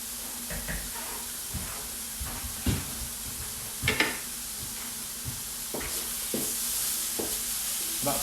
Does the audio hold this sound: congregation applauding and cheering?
no